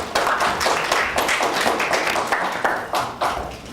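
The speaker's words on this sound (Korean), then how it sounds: "박수로 부탁드릴게요" An audience at a startup weekend final pitch event claps steadily, with a loose, moderately loud patter of hands and no voices over it.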